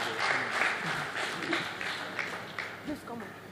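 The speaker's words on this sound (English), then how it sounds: "If you are giving an applause, you can give the applause louder." Audience applause at a mentoring conference, a room of people clapping continuously with some chatter and voices mixed in, fairly loud and close throughout.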